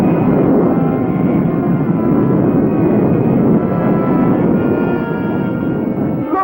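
A cartoon spaceship launches and flies off with a loud, sustained roaring rumble that holds steady throughout and eases slightly near the end, with no voices over it.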